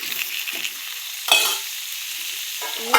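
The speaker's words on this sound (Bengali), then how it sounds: "একটু নাড়াচাড়া করে এখন এটাকে একটু ঢেকে দিই" A dal is stirred in a cooking pot, with scraping strokes and a sizzling, frying hiss in the background, plus a few clearer spoon clatters near the end and no talk.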